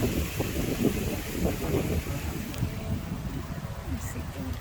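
Strong wind blows at a lake home on a wintery day as a steady, rushing roar buffets the microphone, loud and constant throughout.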